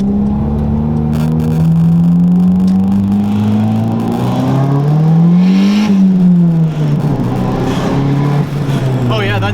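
A car engine revs and accelerates hard under high boost, its pitch rising steadily before dipping and climbing again, loud and close throughout with a constant whirring drone.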